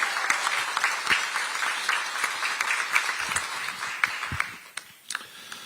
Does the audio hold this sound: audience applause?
yes